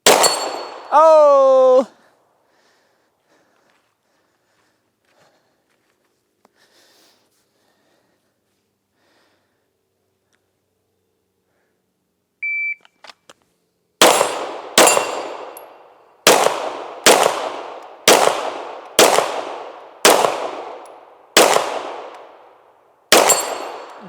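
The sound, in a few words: gunshots hitting steel targets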